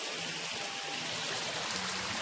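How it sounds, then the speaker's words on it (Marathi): Waterfall pouring steadily at a Ghat viewpoint in the Ozare and Sayale Ghat area, a dense continuous rush of water filling the scene without pause, fairly loud and close with no voices over it. "तर असा मागच्या साईडला धबधबा आहे"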